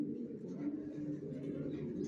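Racer pigeons cooing, a low continuous burbling murmur of several birds close by, with faint background noise.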